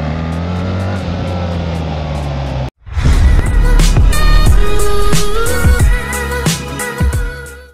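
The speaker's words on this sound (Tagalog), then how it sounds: "Ito yung bagong BMW GSA oh. Wala ng clutch to oh. Hataw oh." New BMW GSA motorcycle with no clutch, its engine humming steadily before a brief cut, then roaring loud and close as it accelerates hard, the pitch climbing through the revs.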